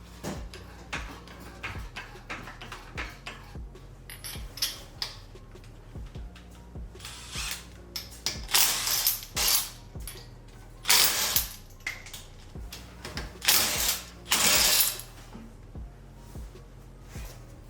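A ratchet clicks steadily while loosening the axle nut on an Acura TSX, with rapid metallic pawl ticks in bursts interspersed with louder clanks and handling noises, close and without talk.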